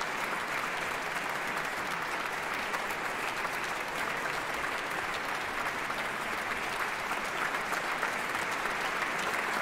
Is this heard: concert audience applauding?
yes